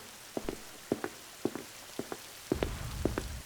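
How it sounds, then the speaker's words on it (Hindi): Rain taps on a surface in steady, rhythmic drops, each landing with a soft thud, then turns into a denser spatter near the end. "बहुत तेज बारिश हो रही है"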